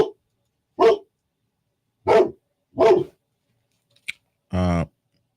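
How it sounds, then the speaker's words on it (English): A guard dog gives several sharp, separate barks at a near distance, spaced a second or so apart in a quiet setting, then a single click and a longer, more tonal bark or yelp to finish. "See, that's what a guard dog sounds like."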